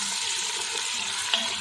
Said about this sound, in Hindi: सबसे पहले हम गोश्त को अच्छे से फ्राई कर लेते हैं।